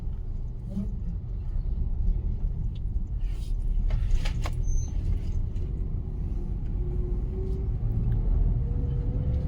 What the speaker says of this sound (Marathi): तर इथे गाड्या पण खूप लागल्यात.